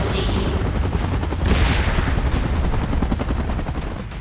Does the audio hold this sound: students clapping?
no